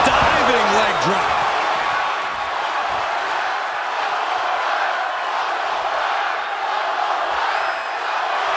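Crowd noise in the Def Jam 2K24 wrestling game at The Barge roars steadily, a loud sustained cheering wash throughout, with a brief vocal whoop near the start.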